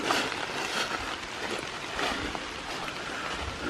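Rain patters steadily through a forest beside a creek in Bankhead National Forest, Alabama, a soft, diffuse hiss of drops on leaves and ground, moderately faint and continuous, with no voices.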